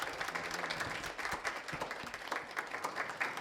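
Audience applause after a presentation at a history and culture conference, a brief burst of many hands clapping at moderate distance, steady and unbroken before fading out.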